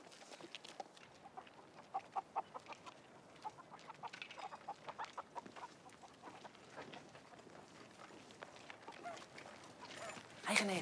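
Chickens and guinea fowl cluck in a farmyard setting, with repeated short calls spread through the scene over background activity and some voices.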